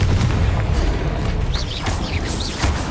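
Confringo fire spell blasts in the Hogwarts Legacy video game, heavy booming bursts rumbling loudly amid continuous combat noise, with several sharp whooshing pops layered over the low rumble.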